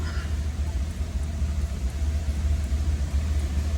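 A 1967 Cadillac Deville engine idling while it warms up, a steady low rumble close by throughout.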